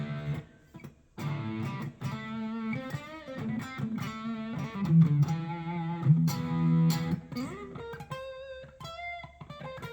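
A Volgoa headless electric guitar is played clean with a little reverb, plucked notes and short melodic runs with clear attacks and ringing sustain, heard alone.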